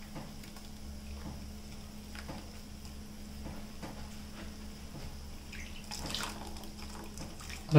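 Water poured into a ground paste of garlic, black pepper, cumin and coconut while cooking pepper rasam, a steady watery splashing and trickling throughout, moderately close and alone with no talk.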